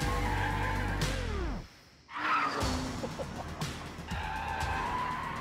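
A Bentley drifts on a race track, its engine roaring and tyres skidding and squealing loudly, with a short near-silent gap before the engine and tyre screech return.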